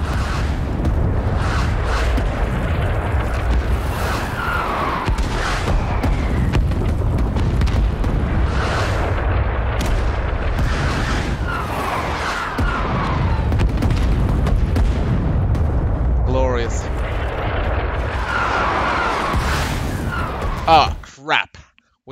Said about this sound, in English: But no, that's our own artillery.